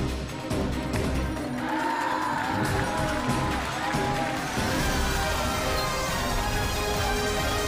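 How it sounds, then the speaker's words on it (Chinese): A studio audience cheers and claps to welcome a young Uyghur girl onto a television talent show stage, a loud, steady crowd roar with whoops lasting throughout, close and full. "那我们接下来就用热烈的掌声去欢迎他上台好吗？"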